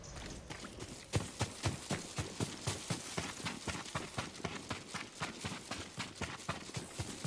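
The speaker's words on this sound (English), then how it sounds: "Yuriko's horse." Horse hooves clip-clopping steadily in Ghost of Tsushima, a brisk, even rhythm of close, crisp hoofbeats continuing without pause.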